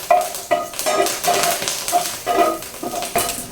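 Curry leaves roasting in a hot pan with the gas turned off while making a chana dal and urad dal chutney, giving a soft crackling sizzle broken by repeated stirring scrapes and light clinks of a spoon against the pan.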